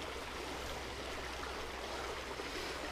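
A river in the wild flows steadily as a continuous broadband rush of water, close and even throughout, with no voices.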